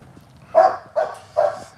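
Three sharp barks from a dog come in a steady rhythm after a quiet start, moderately loud and fairly close, with no voices over them.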